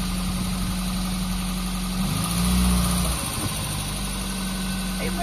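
A 1983 Austin Metro engine idles steadily with a low hum and a slight swell in revs as the car begins reversing after a clutch repair.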